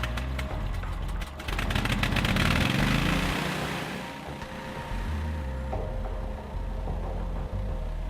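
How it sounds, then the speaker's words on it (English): A pressure washer engine on a Hydrotek decontamination unit cranks with a rapid clattering, catches and swells, then settles into a steady low running drone, fairly faint and close. "When the engine turns over, push the choke back in."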